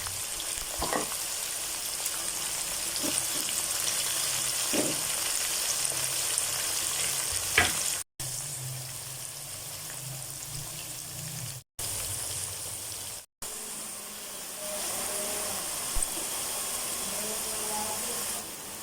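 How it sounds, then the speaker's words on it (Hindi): A kilo of small-cut cauliflower pieces deep-fries golden in oil, giving a steady, fairly quiet crackling sizzle with a few sharp pops and three brief dropouts. "इसे सब गोभी को गोल्डन फ्राई कर लेंगे"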